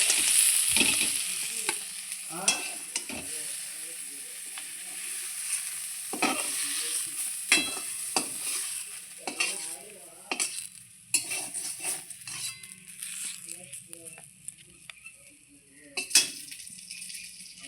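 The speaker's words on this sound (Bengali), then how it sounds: "বেগুনটা খুব সুন্দর লাল লাল করে ভেজে নিয়েছি। এইবার আমি বেগুনটা তুলে নেব।" Eggplant frying in hot mustard oil in a wok, with a steady sizzle under repeated stirring and scraping of a spatula against the pan, plus occasional clinks.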